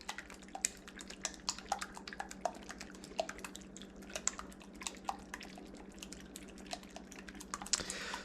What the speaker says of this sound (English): let's get like a pinch of salt and start whisking